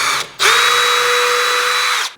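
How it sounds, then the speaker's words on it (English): A power drill pre-drills nail holes in wood for a bird feeder, giving one loud, close, steady whine of about two seconds after a brief start, with no talking. "I am going to pre-drill my holes for my nails."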